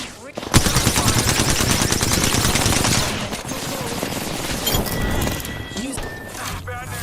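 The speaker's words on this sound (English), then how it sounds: "Bomb bots are shooting at me." Rapid machine-gun fire from bomb bots in a video game, dense and loud bursts running for several seconds, with shorter shots and clatter trailing off toward the end.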